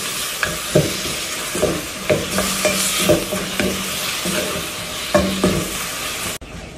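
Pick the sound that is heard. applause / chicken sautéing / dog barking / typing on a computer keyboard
chicken sautéing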